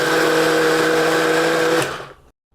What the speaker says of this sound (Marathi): तर आपण हे ग्राइंड करून घेऊया मिक्सरला